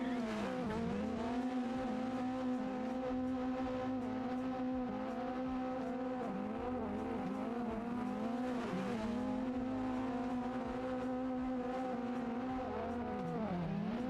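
A car drifting in the racing game Assetto Corsa sends out a sustained engine drone with steady high harmonics, and tire squeal runs under it, loud and continuous for the whole stretch with small shifts in pitch and no talking.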